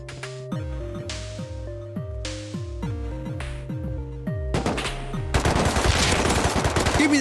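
AK rifle fire in the video game Rust, loud repeated bursts of several shots each, growing into a denser, heavier barrage of gunfire toward the end.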